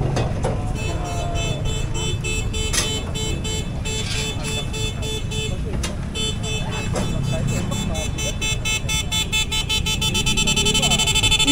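Sustained blaring vehicle horn tones sounding continuously with some pitch changes, loud and close, over engine rumble.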